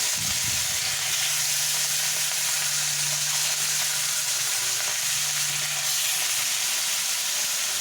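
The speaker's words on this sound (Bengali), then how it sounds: "দিয়ে ভালো করে এটি দুটি করে ভেজে নিই মাছটাকে" Pieces of rohu fish fry in hot oil in a kadai wok, giving a loud, steady, close sizzle that crackles without pause for several seconds.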